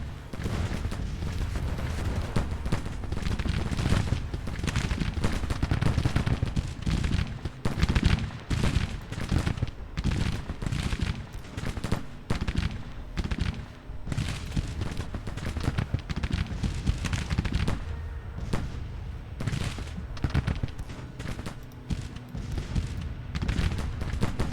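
Civil War battle in a video game, with dense crackling musket gunfire and booming artillery volleys rolling continuously at a steady moderate level, no voices.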